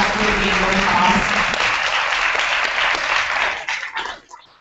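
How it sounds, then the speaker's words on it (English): A workshop audience applauds loudly and steadily, then the clapping thins out and fades away near the end. "can we give Stephen a huge round of applause for"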